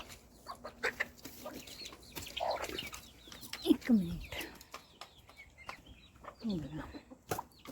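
A broody hen clucks in short, scattered bursts close by behind a house, with other birds chirping softly and a voice speaking briefly.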